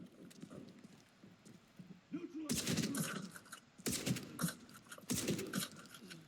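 Gunfire in the shooter game Arena Breakout, with bursts of rapid shots cracking out in three separate volleys over low background sounds and footsteps, fairly close and loud.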